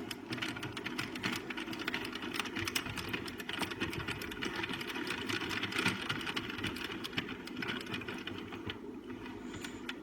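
An Addi Kingsize knitting machine is cranked steadily, giving a soft, continuous mechanical clatter of rapid clicks that runs quietly through the whole stretch.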